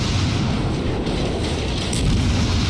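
Naval guns of a Tier IV American cruiser Phoenix in World of Warships fire high-explosive shells, giving rumbling booms and a constant heavy low roar of battle, with no voices.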